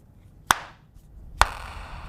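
A Samsung Galaxy Z Flip 5 folding phone snaps shut twice, each a sharp, crisp clack with a short bright tail, about a second apart, close and alone in a quiet room.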